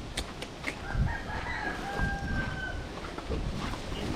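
Rooster crowing once at moderate distance on a windy farm, a drawn-out call over rustling background noise, with faint clucks and other bird sounds around it.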